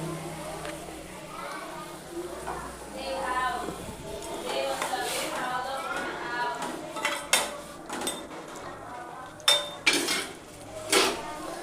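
A utensil scraping and clinking against a cooking pot while Maggi noodles are stirred, with soft metallic knocks growing into several sharper clanks toward the end, heard beneath steady talking.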